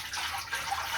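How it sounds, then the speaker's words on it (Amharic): Water is poured into an iron pot in a steady, continuous splashing stream lasting about a second, close and fairly loud, with no voices. "ውሃ አደርግበታለሁ ብረት ድስቱ ላይ"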